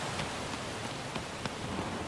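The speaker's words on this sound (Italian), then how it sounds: "piove, o almeno sembra che piova." Steady rain falls in the video game Shadow of the Colossus, a soft continuous hiss with a few faint drop-like ticks scattered through it, quiet and even, with no talking.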